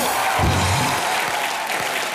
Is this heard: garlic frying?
no